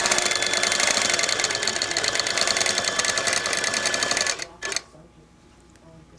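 Tin Lizzie quilting sewing machine stitching along a quilt, a loud, close, fast mechanical whir with rapid needle chatter that runs steadily, then cuts off abruptly near the end, leaving near silence.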